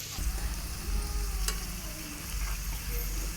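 Red and green peppers frying in a pan, a dense, steady sizzle close by with faint stirring scrapes and no break throughout.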